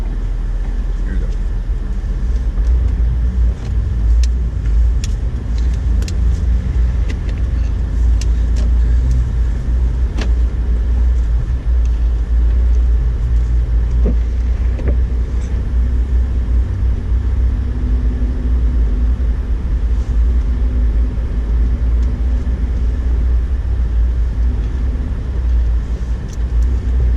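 A 2008 Honda Ridgeline pushes through deep snow during a New York blizzard, in four-wheel drive and first gear, with a steady, loud low engine and road rumble from inside the cab and someone talking throughout.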